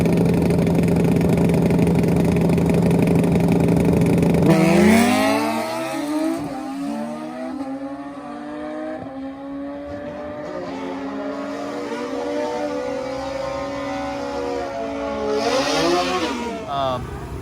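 A turbocharged Suzuki Bandit 1200 motorcycle makes a racing run. The engine drones hard, then its pitch sweeps upward through repeated gear pulls as it accelerates, staying loud and close the whole time.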